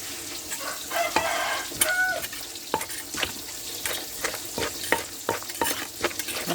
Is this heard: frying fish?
yes